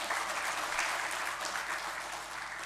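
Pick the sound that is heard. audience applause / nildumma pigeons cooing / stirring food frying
audience applause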